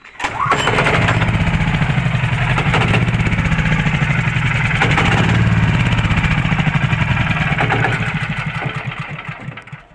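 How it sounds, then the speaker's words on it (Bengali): A rope-started engine, run with its fuel tank nearly empty, catches and runs at a steady, loud, close putter for several seconds before fading toward the end. "আমি এক হাতে আমি স্টার্ট দিয়ে দেখাই দিই এই যে দেখেন দড়ি স্টার্ট আছে"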